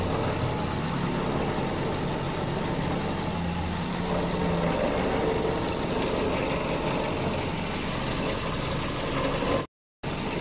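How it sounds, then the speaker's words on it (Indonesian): A Toyota Kijang engine idles steadily during a radiator flush, a continuous low rumble that holds even and close for about ten seconds with no talk, cutting out briefly at the very end. "Oke, kita nyalakan mesinnya."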